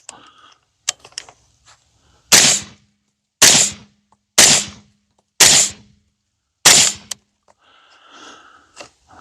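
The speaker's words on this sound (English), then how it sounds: "this is the 30 cal suppressor with a 30 cal end cap, so I think it's pretty quiet considering what's what" Five suppressed rifle shots from a .30 cal Dead Air Sandman S suppressor with a .30 cal end cap, each a sharp loud crack evenly spaced about a second apart, with quieter handling clicks before and after.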